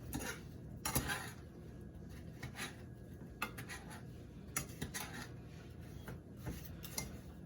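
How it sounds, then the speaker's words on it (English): Apple cobbler ingredients and sugar are mixed in a bowl with a utensil, giving soft, close scraping and clinking strokes at an uneven rhythm, faint and without talking. "So I'm just giving this a mix."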